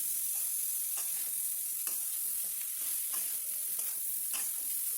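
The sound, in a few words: beetroot pieces being stirred and fried for chutney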